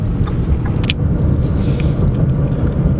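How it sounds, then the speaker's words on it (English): Interior engine and road rumble from a Ford Taurus being driven and turning, steady and loud with light tire hiss and small rattles, no voices. "So it's very smooth driving over here."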